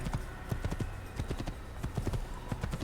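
Horse hooves clip-clop in a steady trotting rhythm in Assassin's Creed 1, the game's mounted travel sounding moderately quiet, with faint talk now and then.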